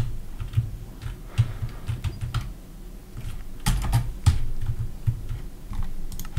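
Computer keyboard keys pressed during Minecraft Tekkit play, a close, irregular clatter of taps and sharper clacks with brief pauses, over a low steady hum.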